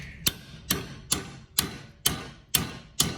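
Seven sharp metallic strikes from a sledgehammer hitting the front stabilizer links of a 2012 Cadillac SRX land at an even pace, each ringing briefly before the next heavy blow.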